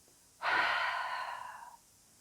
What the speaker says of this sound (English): take a deep breath in towards your belly. And then exhale through your mouth